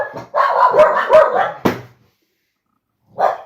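Several dog barks and yips crowd together indoors over the first two seconds, then a pause before one more short bark near the end.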